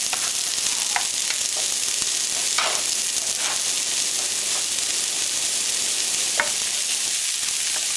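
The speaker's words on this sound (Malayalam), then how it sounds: "കുറച്ച് ഉപ്പിട്ടിട്ട് നന്നായിട്ട് വഴറ്റിയെടുക്കുക." Chicken-vegetable pie filling with mushrooms and salt sautéing in a pan, a steady close sizzle and hiss running throughout, with a few soft scrapes of stirring.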